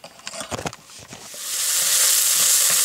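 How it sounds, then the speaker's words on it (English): Onions sauteing in a pan for a baked spaghetti sauce: a few sharp clinks and stirring scrapes at first, then a steady, loud sizzle that builds and holds. "we are sauteing our onions to go in our sauce until it's translucent"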